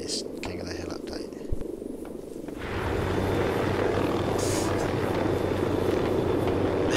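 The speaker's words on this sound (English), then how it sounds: "This fucking chopper's landing" A helicopter lands in the video game ARMA 3, its rotor drone rising into a loud, steady pulsing roar partway through, with a player's voice talking over it.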